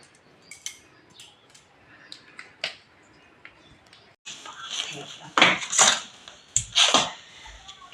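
Raw mangoes are cut with a knife for Kashmiri mango pickle, giving sharp knocks and crunchy cutting sounds, sparse and soft at first, then louder and more frequent in the second half.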